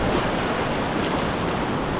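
Whitewater on the Class III Middle Ocoee river churns in a steady, close wash of crashing little waves, heard from a kayak with wind buffeting the microphone and no voices.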